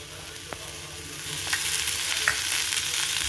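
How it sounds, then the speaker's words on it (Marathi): Chopped onion frying in oil in a pan for a Marathi chicken and rice dish, a steady soft sizzle with occasional scrapes of stirring, close and alone, gradually growing a little louder. "आता आपण कांदा पण भाजून घेऊया"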